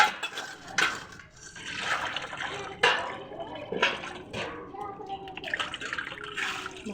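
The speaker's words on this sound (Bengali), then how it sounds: "ভালো করে একটু ধুয়ে নিচ্ছি।" Fish is rinsed in water by hand, giving irregular splashes and sloshing bursts that are close and fairly loud. Speech is heard intermittently alongside.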